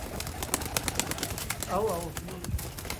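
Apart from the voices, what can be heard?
Sialkoti pigeons cooing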